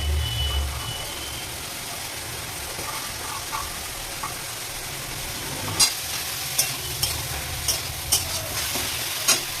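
Rice sizzles steadily in a hot pan while being fried for tomato rice, a continuous frying hiss joined in the second half by a few light scraping clicks from stirring.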